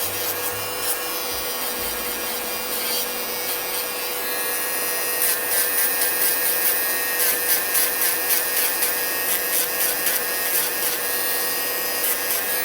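An inexpensive electric nail file machine grinding gel polish off fingernails, a steady motorized whine with a gritty buzzing scrape that pulses in short strokes as the bit works the nail, close and alone.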